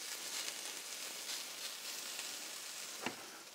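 Pancetta sizzles as it renders in a dry frying pan with no added fat, a steady close crackling hiss with small pops and one louder snap near the end.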